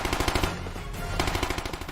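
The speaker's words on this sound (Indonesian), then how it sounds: "Adu tembakan pun tak bisa terelakkan." Dense, rapid automatic gunfire fills an animated battle scene set about 800 meters from an approaching enemy, with sustained machine-gun bursts rattling loud and continuous throughout.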